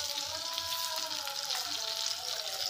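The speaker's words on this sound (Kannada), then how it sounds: "ಇವಾಗ ಈ ಮೊಟ್ಟೆನ ಫ್ರೈ ಮಾಡ್ಕೋಬೇಕು" Eggs frying in a pan for an egg curry give off a steady, close sizzle that holds unbroken throughout, with no voices over it.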